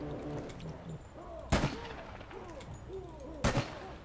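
Gunfire in the video game APB: Reloaded comes as two sharp, loud shots about two seconds apart, over a background of game ambience and faint chirping effects.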